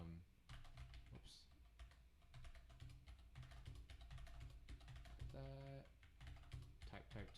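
Rapid computer keyboard typing while coding a simple unit test gives a continuous patter of clacking keys, close and clear, with a brief voice sound partway through.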